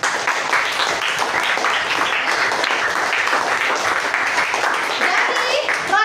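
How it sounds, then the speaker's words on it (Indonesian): Audience in a school setting applauds a student named Rasya, dense steady clapping lasting throughout at fairly loud level, with voices mixed into the crowd noise. "Tepuk tangan dulu buat Rasya."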